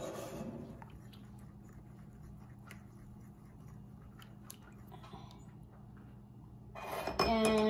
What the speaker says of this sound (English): Okay, and you wanna mix it up.